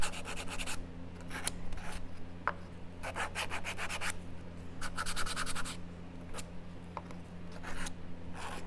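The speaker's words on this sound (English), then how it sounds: "So I just want to sand the edges." Wooden edges of a moonball kit piece being sanded by hand, steady close scratchy rubbing strokes in quick rhythmic bursts, alone without talk.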